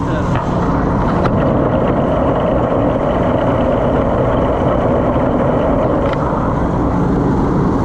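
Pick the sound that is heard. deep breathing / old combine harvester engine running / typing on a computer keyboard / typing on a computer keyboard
old combine harvester engine running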